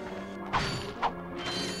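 Bolts being collected and boxes broken in the PS3 game Ratchet & Clank HD: a steady mechanical game hum with two short crunchy breaking hits about half a second apart, then a fainter third.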